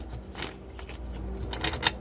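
Tarot cards are shuffled by hand in a series of soft, papery riffles and flicks, fairly close and moderately quiet, with faint background hum and a sharper snap near the end.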